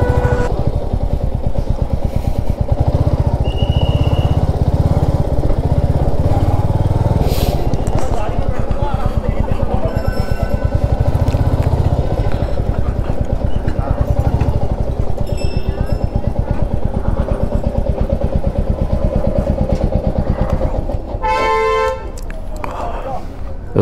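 A motorcycle on a foggy solo highway ride from Delhi to Rishikesh gives a steady, loud engine drone and road rumble throughout, with brief horn toots near the end and a voice talking over it.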